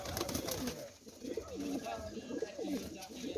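Pigeon cooing close by from a young bird of a dove-keeper's flying-pigeon stock as it is handled, soft repeated coos running under steady background noise and voices.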